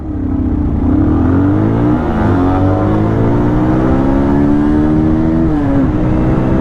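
Pulsar 220F and MT-15 motorcycles accelerating side by side in a drag race, loud close engine revs climbing through several gear shifts with rising and dropping pitch, continuous for the whole stretch.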